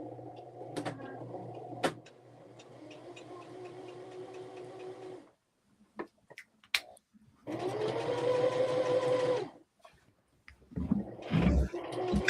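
A home sewing machine runs a long straight stitch in bursts of a couple of seconds each, a close buzzing whir broken by pauses, clicks and handling noises, with no talking.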